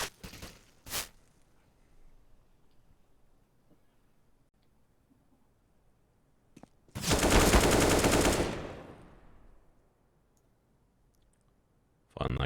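A long AK rifle burst in a Counter-Strike match on the Anubis map, loud and sustained for about two seconds, with a few sharp isolated shots before and after against quiet game ambience.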